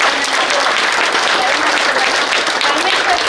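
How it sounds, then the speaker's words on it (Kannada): Loud, continuous applause from a gathered crowd welcoming Karnataka Home Minister G. Parameshwar on his visit to a news office, a dense steady roar of clapping with some voices mixed in. "ಜೋರಾದ ಚಪ್ಪಾಳೆಯೊಂದಿಗೆ"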